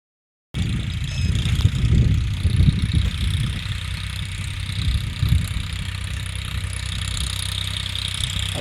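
A GPS-fitted farm tractor engine starts and runs at a steady idle close by, with a loud low rumble that dips slightly and then holds constant.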